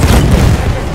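A grenade blast in Battlefield 1 during an Operations defense battle on the Brusilov Offensive map, a single loud, close, low rumbling boom that fills the whole moment.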